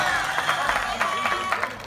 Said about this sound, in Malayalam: ഉഷാറായിട്ട് കൈയടിച്ചാണ് ജോലി.